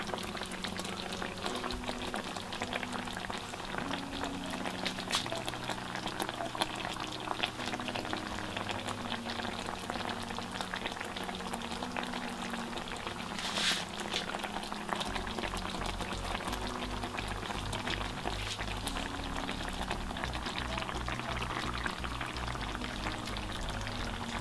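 Salmon fillet simmers in a creamy Parmesan sauce in a frying pan, giving a steady close bubbling and sizzling that continues for the whole stretch, with no talk.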